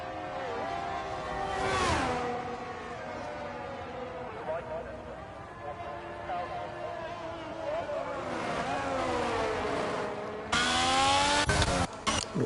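Race cars in a racing game pull out onto the out lap at the Miami round, their engines droning and shifting pitch as they rev, with louder passes near the end. A commentator talks over the engines throughout.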